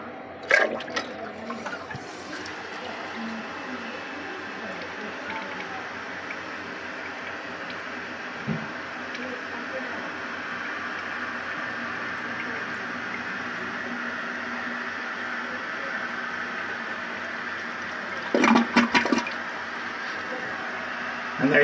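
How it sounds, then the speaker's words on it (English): A converted 1976 Kohler Rochelle toilet with new-style tank parts flushes, a sustained rushing and refilling water sound lasting many seconds, with a couple of brief clunks near the start and end. "the toilet still flushes just fine"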